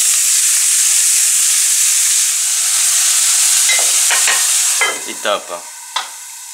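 Sweet potato leaves with garlic sautéing in a pan, a loud, dense, steady hiss of sizzling that eases near the end, with a few brief utensil scrapes and a short spoken phrase.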